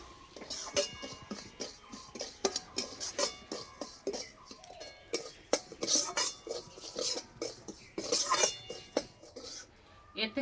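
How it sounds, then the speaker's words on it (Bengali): Semolina lightly roasting in a wok, with repeated close metal spatula scrapes and clinks stirring the grains, irregular in rhythm, with faint background voices now and then. "সুজিটা হালকা করে ভেজে নেব।"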